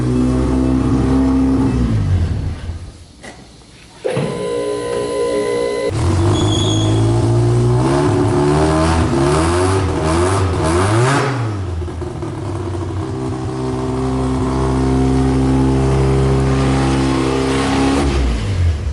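A carbureted, high-mileage GSL-SE track car engine revs hard on a dyno, roaring loud and steady, dipping briefly then climbing through rising and falling pitch sweeps for a long, continuous run.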